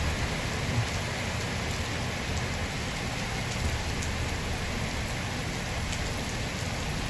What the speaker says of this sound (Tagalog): malalim yung tubig tapos malakas ang ulan